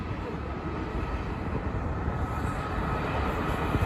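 A passing train gives a steady, loud broadband rumble that holds throughout and swells slightly toward the end, with no talking over it.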